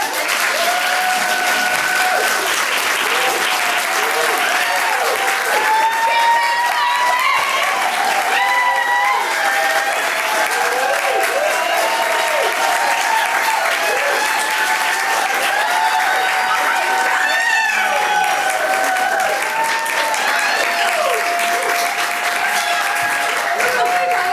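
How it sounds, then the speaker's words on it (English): Sustained audience applause at the debut preview performance of Supernova at The Zephyr, loud and continuous for over twenty seconds, with cheers and voices mixed into the crowd noise. "we're gonna need some applause from the audience"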